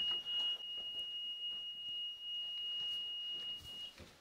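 An electronic alarm device used on a paranormal investigation emits a steady high-pitched tone, held for about three seconds in a quiet outdoor setting near a picnic table, faint against low background hiss.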